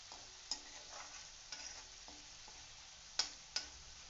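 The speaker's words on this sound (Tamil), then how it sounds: "நார்த்தங்காய் தோல் கெட்டியானதுனால வதங்குறதுக்கு கொஞ்சம் டைம் ஆகும்." Pieces of citron with tough peel sauté in a pan for pickle: a faint, steady sizzle punctuated by occasional sharp spatula taps and clicks.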